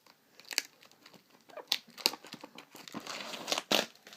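Plastic wrapping is torn off a trading card tin by teeth, close and faint, with crinkling, crunching and brief tearing bursts.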